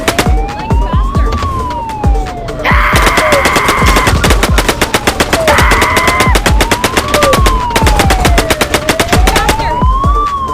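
Rapid, rhythmic gunfire from a gun in the video game I Am Bird, loud and continuous over wailing, rising and falling siren-like game tones, with no voice over it.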